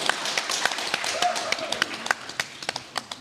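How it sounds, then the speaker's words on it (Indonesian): Sparse applause at a debate between regency candidate pairs in Balangan, a handful of separate claps that grow more scattered and fade out. "marilah kita berikan tepuk tangan meriah untuk masing-masing pasangan calon"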